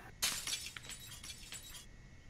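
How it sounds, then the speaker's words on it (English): A window's glass shatters in the zombie survival game Project Zomboid, starting with a sharp crash and then a scatter of tinkling shards falling for about a second and a half, heard alone without talk. "Alright, break the glass."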